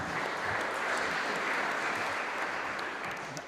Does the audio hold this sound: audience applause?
yes